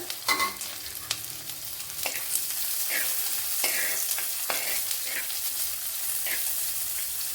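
A medium-sized onion sizzles while frying in oil with garlic and ginger for a Kerala-style curry, a steady close hiss with occasional stirring scrapes and light clinks.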